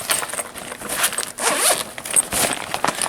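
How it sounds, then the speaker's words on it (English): Zipper being pulled open around an insulated lunch bag beer cooler, a few quick rasping zips close to the microphone with slight crinkling fabric. "Let's unzip and unvelcro."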